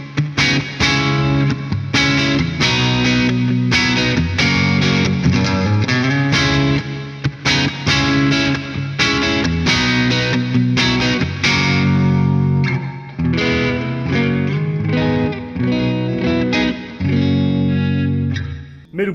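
An electric guitar with nickel-covered humbuckers in coil-split mode plays through light overdrive, strumming loud sustained chords and riffs alone for the whole stretch.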